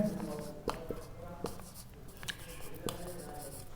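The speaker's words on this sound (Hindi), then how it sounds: "अब देखो यहाँ पर मैं थोड़ा सा लिख लेता हूँ।" Chalk or marker strokes on a classroom board during a biology lecture, a few scratchy taps and short scrapes spaced irregularly against a quiet room background.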